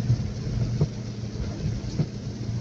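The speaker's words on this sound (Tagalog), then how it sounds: "Lakas pala ng ulan dito." Heavy rain at Laguindingan Airport makes a dense, steady wash of noise, with a low rumble and a few faint thuds beneath it and no voices.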